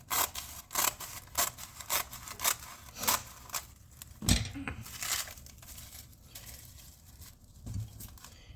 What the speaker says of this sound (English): basically what I do is just cut them